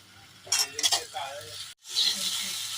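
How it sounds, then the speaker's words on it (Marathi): Sweet potato slices are sautéed in a pan, sizzling and frying with bursts of stirring and a few utensil clinks against the pan, heard close and moderately loud. "रताळ्याचे काप आता परतून झालेत"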